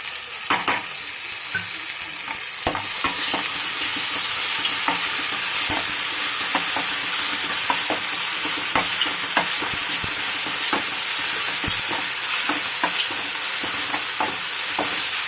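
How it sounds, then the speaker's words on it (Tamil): Ginger garlic paste frying hard in a pan, a loud, bright, unbroken sizzle close up that swells after the first few seconds, dotted throughout with regular clicks and scrapes of a stirring spoon, and no one talking. "இப்போது நல்லா ஃப்ரை ஆகிடுச்சு. நம்ம இஞ்சி பூண்டு பேஸ்ட்டு போட போகிறோம்."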